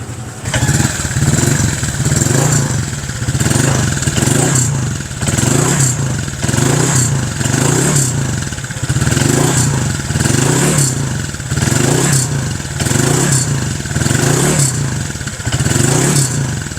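A Honda Click 150 scooter fitted with an MTK block revs through its exhaust, loud and close, with repeated rhythmic throttle blips rising and falling about every second over a steady idle.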